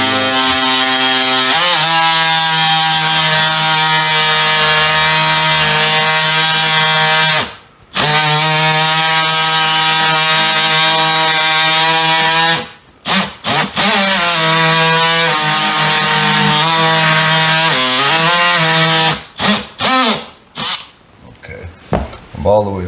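A power tool trims baseboard trim in a kitchen, using the trim as a guide. It makes a loud, steady, high-pitched whine that runs through long stretches, with brief cutoffs and a run of stuttering stops near the end.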